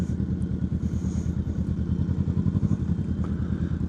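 Several motorcycles ride past close by with a steady, pulsing mid-pitched engine rumble and some clattering, with no pauses between machines.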